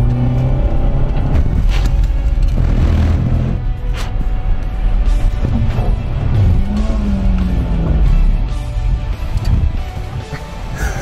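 A front-wheel-drive Honda Civic drives hard through a handling test, its engine rumbling loudly and continuously from inside the cabin, with surges of revving and road noise.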